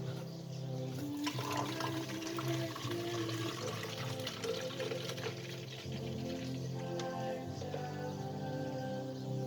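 Dechlorinated aquarium water gushes steadily and loudly into a container. It pours in one continuous rush with no voices.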